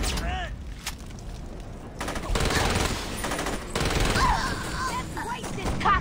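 Dense, sustained automatic gunfire from the Saints Row video game, loud and continuous bursts with brief gaps, layered with game effects and a voice talking over it.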